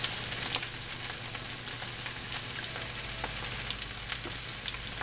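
Mushroom soy sauce goes into a hot pan of Thai fried rice made with leftover rotisserie chicken, and a steady, dense sizzle and frying hiss carries on without talk.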